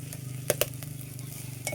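Fried rice stirred in a pan over a steady sizzle, with spatula scrapes and a couple of sharp metallic clinks against the pan, close and alone with no voices.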